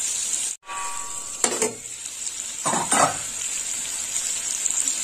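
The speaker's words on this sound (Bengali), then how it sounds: "দেখুন বন্ধুরা, কাঁকরোলটা এইরকম হালকা ভাজা হয়েছে" Pointed gourd (kakrol) pieces fry lightly in oil with a soft continuous sizzle, interrupted by a brief drop and a few scraping stirs of a spatula against the pan; no voices.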